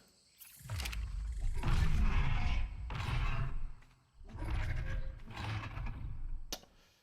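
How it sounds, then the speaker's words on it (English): Two long, harsh, rasping roars from the new Giganotosaurus in Ark Survival Evolved, loud and close, the first running about three and a half seconds and the second slightly shorter, with a short gap between them and no one talking. "And that is the new Giga sound."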